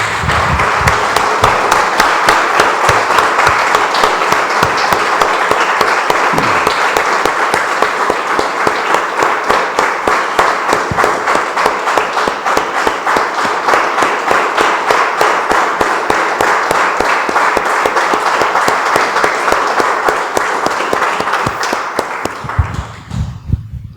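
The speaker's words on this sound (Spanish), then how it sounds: "Damos un aplauso, hermanos." A church congregation applauds in a sustained, dense burst of clapping that carries on for over twenty seconds before fading out.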